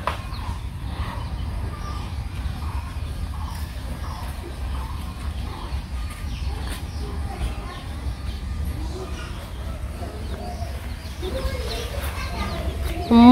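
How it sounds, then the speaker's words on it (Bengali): Backyard chickens cluck and murmur on a rural Bangladeshi homestead as they dust bathe in the soil, a steady low farmyard bustle with a voice talking over it and ducks nearby. "মাটি দিয়ে গোসল করতেছে মুরগি, দেখছা?"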